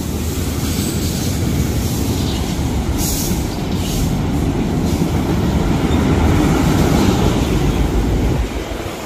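A freight train carrying auto frames rumbles past nearby, a loud steady roar of wheels and rail noise that holds throughout with faint squeals above it.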